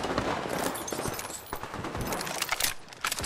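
Rapid gunfire bursts from an Apex Legends battle, dense and continuous, with sharp cracks stacking over a busy game mix for the whole stretch.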